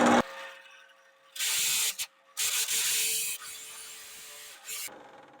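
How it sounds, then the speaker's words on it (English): A drill hums steadily at too high a speed while several loud bursts of grinding and scraping cut in and out as the bit chews into wood, close by. "I think the drill speed's too fast."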